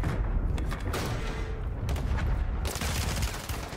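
Rapid, dense gunfire from the Warzone video game, several weapons firing in overlapping bursts nonstop, loud and close with booming low impacts throughout.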